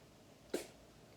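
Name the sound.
person sneezing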